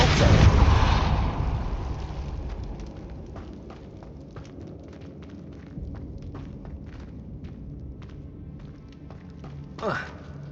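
A Depulso spell is cast in the video game Hogwarts Legacy, opening with a loud rumbling boom that fades over a few seconds, followed by scattered light ticks and taps and a short whoosh near the end.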